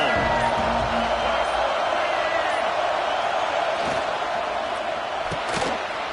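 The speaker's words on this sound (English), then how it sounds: "This crowd ready to make its presence known." Stadium crowd at a UCLA vs. Clemson college football game, a dense steady roar of cheering and shouting sustained throughout, loud and enveloping with a few sharper thumps and whoops rising out of the din.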